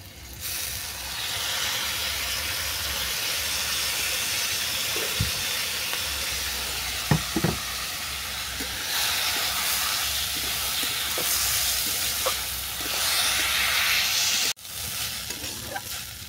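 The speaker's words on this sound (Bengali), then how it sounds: "চালটা ভালো করে নেড়ে চেড়ে সমস্ত উপকরণের সঙ্গে আমি মিশিয়ে নিয়েছি, নিয়ে অল্প ভাজা ভাজা করে নিয়েছি" Washed rice fries with garam masala and turmeric in a pan for mango pulao: a steady, loud hissing sizzle runs throughout, broken by occasional stirring scrapes and a short dip near the end.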